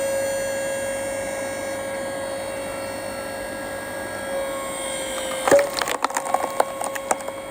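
A Scheppach LS700UG log splitter runs with a steady hydraulic hum and presses into a large log until the wood gives way with loud cracking and splintering pops near the end.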